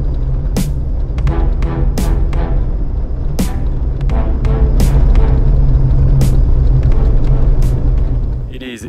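A car drives along the Dempster Highway, with a steady low engine and road rumble throughout, interrupted by periodic sharp clicks and knocks from the cabin.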